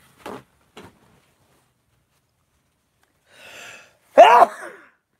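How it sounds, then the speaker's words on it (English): Two faint short breaths, a pause, then an inhaling gasp builds into one sharp, loud sneeze close up, ending in quiet. "I'm gonna sneeze."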